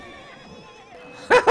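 A horse in a video game gives a sharp, loud whinny at the very end, two quick bursts after a quiet stretch of low background game sound.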